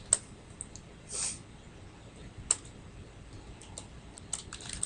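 Java code being typed on a computer keyboard, sparse individual key clicks with irregular pauses, quiet and close, with no one speaking.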